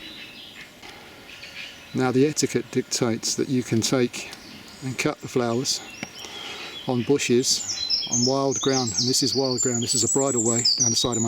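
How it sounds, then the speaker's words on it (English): Bright bird chirps and tweets sound outdoors beside a bridle way next to a house, scattered and fairly faint beneath someone talking steadily close by. "Excuse the birds chirping."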